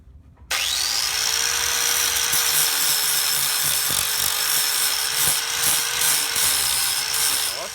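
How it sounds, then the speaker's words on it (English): An angle grinder with a flap disc spins up and grinds steadily on a welded leaf spring bolt pocket, a loud, continuous high whine with slight fluctuations in pitch, alone without talk. "we're going to grab our flat disc and just go ahead and grind this thing smooth"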